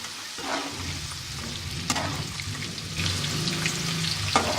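Dal lentils fry in hot oil for homemade nimko, a steady close sizzle with crackling, occasional stirring scrapes and light spattering pops throughout.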